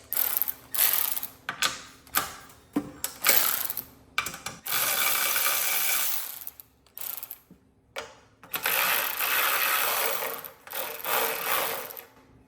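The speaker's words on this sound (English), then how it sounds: "Let's go and take these tank mount bolts out." Rapid ratcheting clicks from a hand wrench removing 13 mm tank mount bolts on a 168F diesel engine come in repeated bursts, close up, with short pauses between turns.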